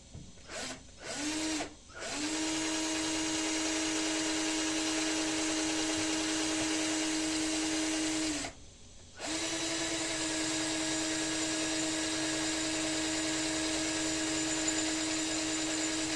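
Power drill with a long bit boring into the steel of an old garden hoe, a steady high whine after a few short start-stop bursts, with one brief pause before the motor resumes and runs on evenly.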